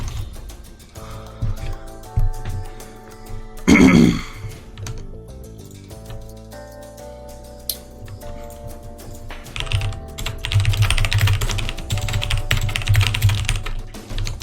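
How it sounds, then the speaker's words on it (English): Computer keyboard typing at an esports match broadcast, bursts of rapid clicky keystrokes, loud and close, with a sharp thump and a music bed in the background. "Apologies for the typing."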